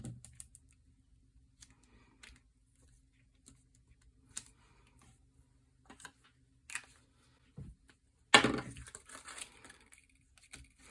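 Scissors snip paper while a flower is cut out, with sparse, soft clicks and rustles separated by quiet gaps, then a louder scrape of handled paper near the end.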